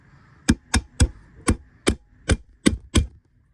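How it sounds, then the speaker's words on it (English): Eight sharp hammer strikes on the tight magazine catch of an AK Bizon rifle build, evenly spaced and close, each a crisp metallic thwack standing alone without talk. "A few hammer thwacks"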